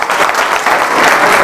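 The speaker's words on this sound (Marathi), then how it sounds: "तर सर्वांसाठी एकदा जोरदार टाळ्या होऊ द्या" An audience claps loudly and continuously at a quiz event, a dense, close wash of many hands throughout.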